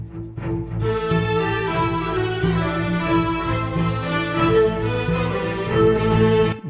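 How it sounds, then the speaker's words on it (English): Level-clear music from a video game plays steadily and loudly, a full layered arrangement with a bright melody over sustained lower chords and a regular beat, with no voices. "When you think everything is calm and you clear the level, the music sounds like this."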